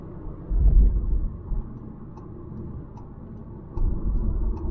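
A 2022 VW Jetta 1.5T Sport with a manual gearbox rev-matches on a downshift, a low in-cabin engine rumble with a throttle blip swelling and falling away, then another rise toward the end.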